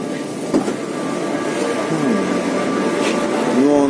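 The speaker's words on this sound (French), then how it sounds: "Ça c'est le métro français," Interior of a French-built metro train riding through Rio de Janeiro, a steady rumbling roar with faint rail squeals rising near the end and a brief knock early on, continuous and fairly loud throughout.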